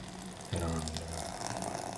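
Milk, about 700 ml, pouring from a carton into a blender jar for a strawberry ice cream smoothie, a sudden splashing gush that starts partway in and runs on steadily, close by.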